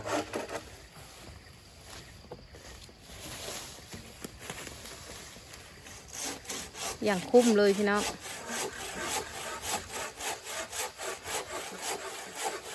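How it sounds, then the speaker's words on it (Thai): A hand saw rasps through a large tree trunk for firewood in a steady back-and-forth rhythm, moderately close, while someone talks briefly. "ต้นใหญ่ต้องใช้เลื่อย"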